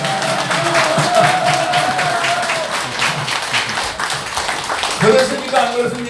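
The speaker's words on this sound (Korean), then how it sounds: "박수 박수." An audience claps steadily through a press conference announcing a politician's presidential run, with a voice carrying over the sustained applause.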